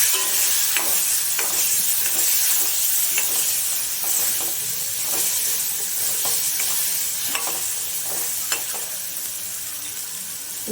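Roasted raw papaya pieces sizzle in a pan while being stirred, a loud, continuous hiss broken by frequent light scraping and clicking strokes.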